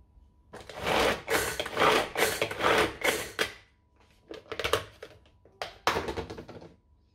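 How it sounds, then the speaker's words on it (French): A small electric blender chops onions in short bursts, with several loud whirring pulses separated by brief pauses, and nobody talking. "D'abord, on va mixer nos oignons."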